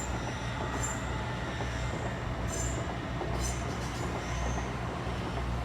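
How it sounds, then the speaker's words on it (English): The Harrogate train rumbles past a level crossing with a steady close roar of wheels on rail, faint metallic squeals rising now and then above the continuous drone. "There's the Harrogate train."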